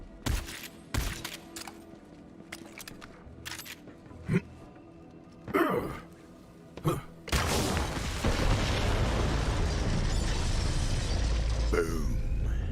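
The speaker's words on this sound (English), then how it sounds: "The explosion echoed through the forest" Bombs set off in a Valorant-style video game explode in a forest, with several sharp booms followed by a loud, sustained rumbling roar that fills the rest of the clip.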